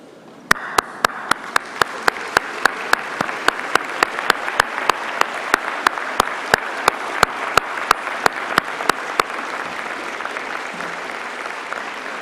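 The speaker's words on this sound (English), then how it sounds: "give them a huge round of applause" A graduation ceremony audience breaks into dense, sustained applause that swells quickly and holds at a steady level, while a sharp regular clicking ticks along through most of it.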